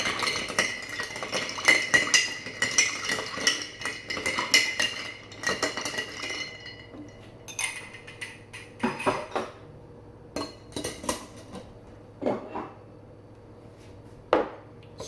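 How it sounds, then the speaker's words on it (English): A corn whiskey habanero cocktail stirred with a bar spoon in a glass, a quick run of bright tinkling clinks at first, then sparse separate knocks and taps, close and alone. "So stir it up."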